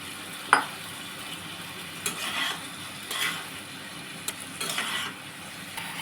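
Chicken with capsicum, turmeric, pepper and chilli sizzles in a pan, stirred with a utensil in several distinct scraping strokes over a steady low frying hiss.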